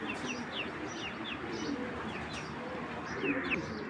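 Racing pigeons coo in soft repeated throaty calls over a dense murmur of a loft flock, with occasional higher chirps and light wing flutters, close and steady.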